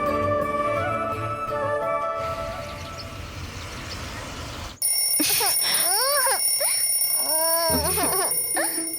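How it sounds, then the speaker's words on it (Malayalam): A repeating electronic alarm tone rings loudly, then gives way to noise before a person starts speaking close up. "ആ അലാറം ഒന്ന് ഓഫ് ചെയ്യ"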